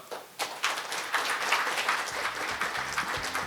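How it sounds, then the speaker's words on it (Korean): Applause from an audience at a formal event in Korea starts after a brief pause and builds to a steady, dense roll of clapping that carries on to the end, moderately loud with no talk over it. "오늘 행사를 위해 바쁘신 와중에도 참석해 주신 이성건 경제부시장님께 다시 한번 큰 박수 부탁드리겠습니다."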